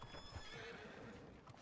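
A horse in Red Dead Redemption 2 whinnies while hooves clip-clop steadily, set against a dense, noisy game soundscape with no voices.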